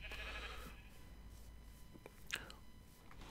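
A Minecraft sheep gives a faint, short bleat near the middle of a quiet stretch, with soft background hiss and small clicks around it.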